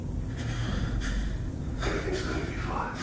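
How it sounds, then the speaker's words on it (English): Heavy breathing from a character in the video game Fallout 4, a few harsh breaths and gasps at close range over a low rumbling background. "Why am I breathing like that?"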